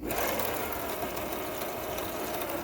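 A Singer Touch Tronic 2001 computerized sewing machine runs steadily with its needle moving, giving a continuous close, even mechanical whir and rattle throughout.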